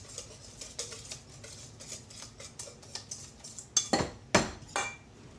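Crab cake mixture with finely ground saltine crackers being stirred in a bowl, a run of soft scraping and tapping utensil clicks followed by a few louder clanks against the dish.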